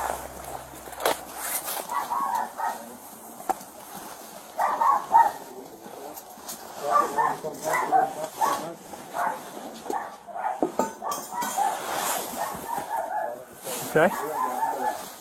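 Two family dogs inside a house bark, yip and whimper in scattered bursts, mid-distance, with footsteps and a man's brief spoken word mixed in.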